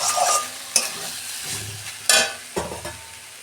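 Peas and potatoes are stirred and sautéed in a wok, with a low sizzle broken by several sharp scraping clatters of the spoon against the pan, close and moderately loud.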